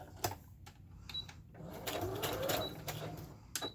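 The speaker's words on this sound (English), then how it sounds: "I'm going to back stitch just a couple." A sewing machine back stitches through coffee-dyed parchment paper in short bursts of whirring needle strokes, with sharp clicks and a brief high mechanical whine, under faint speech.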